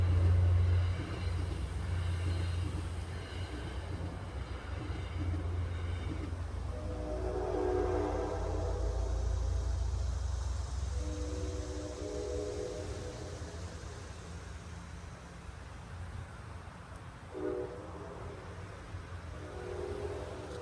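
A passing train rumbles steadily at an outdoor fishing spot, with a long whistle blast early on and the low roar continuing as rail noise swells and fades over about twenty seconds.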